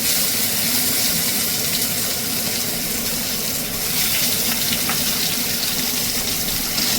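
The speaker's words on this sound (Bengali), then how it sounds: "এবার আমি এর মধ্যে এই নুন হলুদ মাখা মাছের পিসগুলো ছেড়ে দেবো" Folui fish pieces coated in salt and turmeric sizzle in very hot oil, giving a loud, steady, hissing crackle that continues without a break.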